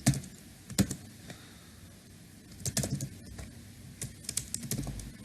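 An email address is typed on a computer keyboard, close and fairly quiet, as bursts of quick clicking keystrokes separated by short pauses.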